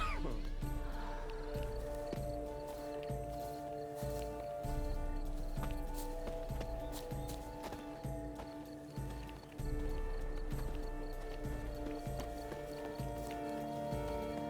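Horse from The Witcher 3: Wild Hunt clip-clopping with hoof steps and a whinny, set against a continuous game soundtrack of sustained tones, with occasional sharp hits throughout.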